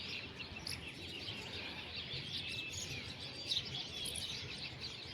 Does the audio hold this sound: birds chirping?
yes